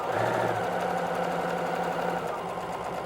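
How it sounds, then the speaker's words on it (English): A sewing machine stitches fabric pieces, backstitching and then sewing along a marked line, its steady mechanical whirr running continuously and close by for about three seconds with no talk. "You want to back stitch, and then you want to sew right on your line."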